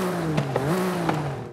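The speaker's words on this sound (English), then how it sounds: "So let's hear what it sounds like with the exhaust." A BMW G82 M4 Competition with stock exhaust in Forza Horizon 5 holds a steady, droning engine note that rises slightly and settles, with a few brief shift-like blips, close and continuous.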